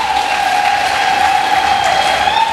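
A church congregation claps together in a dense, steady wash of applause that lasts throughout, with a sustained high tone held above the clapping.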